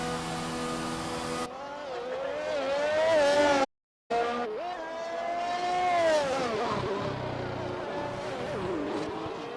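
A race car in a racing video game pulls out and accelerates, its engine note rising and falling through gear changes, loud and close. A short dropout cuts the sound, then the revving resumes and climbs steadily.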